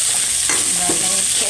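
A spoon stirs chicken in a pot for a noodle soup with quail eggs and vegetables, a short scraping swirl over a soft background sizzle, close and alone with no voices.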